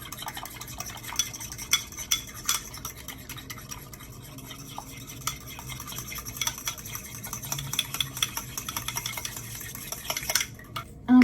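A mixture is mixed by hand, with quiet, continuous squishing and soft stirring strokes that run without a break and a few light taps.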